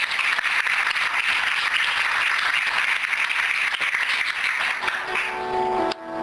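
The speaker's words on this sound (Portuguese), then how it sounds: "Você pode aplaudir o Senhor nessa noite?" A church congregation applauds together in a steady, dense wash of clapping that holds for several seconds, then cuts off abruptly near the end, where a brief sound takes over.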